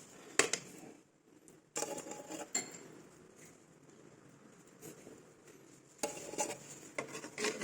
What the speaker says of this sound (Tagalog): Yan na, haluin na natin ito guys.